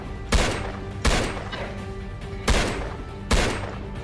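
Four sharp, loud gunshots from the video game Impulse, each a hard crack with a short ringing tail, fired at uneven intervals against a steady background hum.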